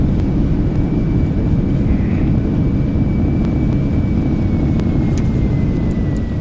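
An Embraer E-175 airliner in the X-Plane 12 flight simulator runs its thrust reversers after landing at Colorado Springs, giving a loud, constant, dense rumbling roar that holds steady throughout.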